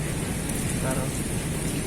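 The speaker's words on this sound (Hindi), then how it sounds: "यहाँ पे तो बारिश बहुत ज़्यादा लगी हुई" Heavy rain pouring steadily on a rainy day, a dense, loud, continuous hiss with no breaks.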